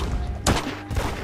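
A single sharp gunshot burst during a Roblox Da Hood raid, loud and brief, with faint follow-up thumps over a steady game background.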